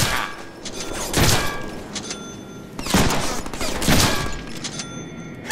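Gunfire rings out in a Deadpool video game, with dense bursts of shots around one, three and four seconds over a steady bed of game noise, loud and close with no talk.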